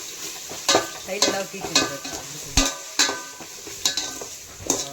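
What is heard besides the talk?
ginger garlic paste sautéing in hot oil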